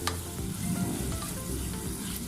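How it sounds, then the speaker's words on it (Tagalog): Garlic fries in a pan with a close, continuous sizzle and light crackle, a few soft scrapes and taps of a utensil over it, with no voices. "Hintayin lang natin maluto yung garlic natin o bawang"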